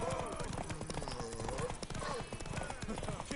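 Horse hooves clip-clop at a gallop in The Witcher 3, a fast rhythmic beat heard under game music and a voice speaking over it.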